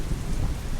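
Steady rain pours with a low rumble of thunder beneath it, a dense continuous hiss with no gaps and no voices over the short stretch.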